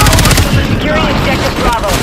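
Rapid automatic gunfire from Call of Duty Black Ops 6, loud and close, bursts rattling continuously over a short stretch with in-game voice chatter mixed in.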